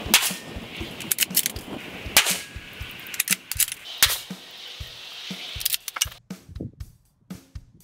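Remington 700 rifle with Magpul Hunter stock fires MONARCH 150 grain soft point rounds, three sharp, loud reports a couple of seconds apart, followed by quieter clicks and clacks of handling.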